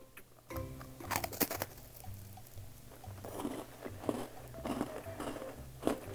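A crunchy butter cookie is bitten and chewed up close, with several crisp crackling bites and munching over about six seconds. No one speaks.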